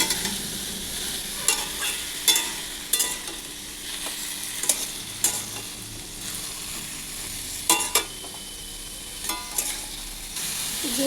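Chopped ridge gourd goes into potatoes frying in a pan, a constant soft sizzle broken by repeated scraping stir strokes and clinks of the spatula at irregular intervals.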